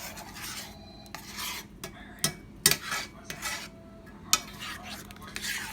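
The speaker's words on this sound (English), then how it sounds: "So we're just going to stir that a little bit." Pork chops cooking in a pan, stirred with a utensil that clinks and scrapes against the metal in scattered strokes over a faint low sizzle, fairly quiet and close.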